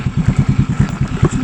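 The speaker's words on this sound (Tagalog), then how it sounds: "Pinababa na ni tita yung motor." A motorcycle engine idles close by with a steady, rapid chugging pulse, its low throb holding even throughout as the bike is brought down.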